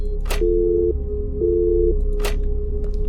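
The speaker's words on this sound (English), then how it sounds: "It's gonna keep ringing, so I might have to answer it" A telephone rings in a game apartment scene, two steady electronic tone bursts in a regular pattern, with brief noisy thumps around them.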